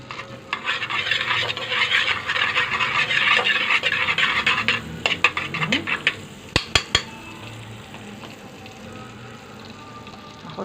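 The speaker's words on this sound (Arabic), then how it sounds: "الزبده بتسيح اهي" Butter melts in a pan for chicken, giving off a steady, close sizzling hiss. A few sharp clinks of utensils on the pan follow near the end.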